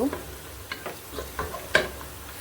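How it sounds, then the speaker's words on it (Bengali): Rice being fried and stirred in hot oil with browned onion, a scatter of soft scraping stir strokes and light sizzle, fairly close and moderately quiet, with no talking. "আমি এখন চালটা ভালো করে ভেজে নিচ্ছি তেলের ভিতরে"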